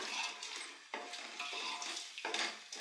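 Tomato masala gravy is stirred in a pot while cooking mutton biriyani, giving close, scraping spoon strokes against the pot in a few long sweeps, with a soft sizzle underneath and no talk.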